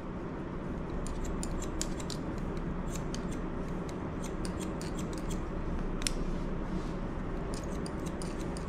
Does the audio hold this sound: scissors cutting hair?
yes